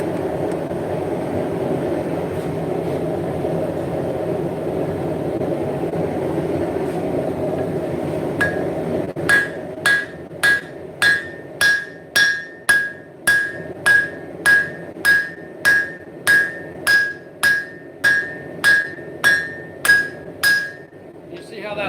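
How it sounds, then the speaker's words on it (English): Hand hammering on a 1045 steel blade at the forge: after a stretch of background roar, a run of sharp, ringing metallic blows lands in a steady rhythm, loud and close, about fourteen strikes in a row. "I'm going to do a little bit of hand forging first, just so I don't over forge it with the power hammer"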